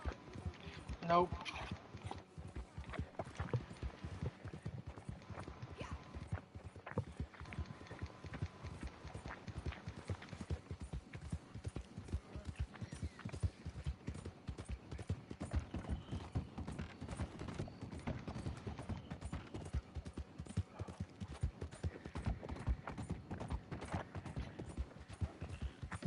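Steady, rhythmic clip-clop of horse hooves in the video game Red Dead Online continues throughout at a moderate distance, with a person talking over it.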